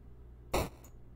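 An 8-bit noise-channel percussion note on C2 sounds as a single short burst of hissy white noise with a faint trailing blip, alone against near silence.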